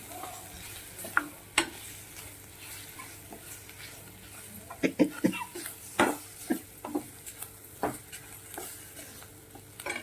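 Spice powders sautéing over lowered heat in a pan for a sprouted moth bean and potato masala, with a faint sizzle under intermittent scraping and clinking stir strokes, a busier run of taps in the second half.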